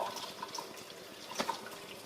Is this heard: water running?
yes